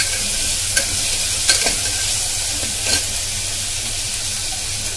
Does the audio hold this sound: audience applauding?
no